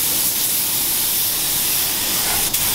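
Spray gun hissing steadily and close while painting a Mercedes-Benz G400d during restoration, a continuous broadband spray with no pauses.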